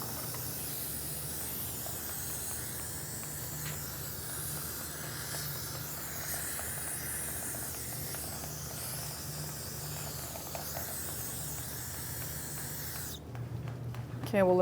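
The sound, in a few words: spraying brake parts cleaner on Toyota RAV4 brake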